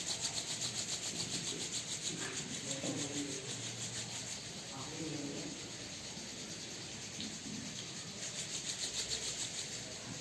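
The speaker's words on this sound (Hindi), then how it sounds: "तो क्या करना है, सबसे पहले आप हाथों को रब कीजिए" Rhythmic, quiet rubbing of two hands together in quick repeated strokes, fading slightly mid-way before picking up again, with faint voice murmurs in the background.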